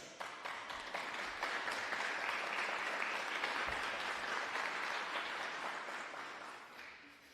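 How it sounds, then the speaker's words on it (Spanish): Sustained applause from an audience at a Colombian Congress session on education, dense and steady for several seconds before fading at the end. "un fuerte aplauso"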